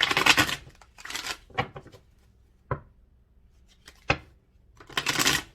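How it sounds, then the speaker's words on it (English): A deck of tarot cards is shuffled by hand in short bursts of riffling and rustling, separated by sharp single slaps and clicks of cards, close and fairly quiet with no talk. "I'm going to give these a good shuffle as well."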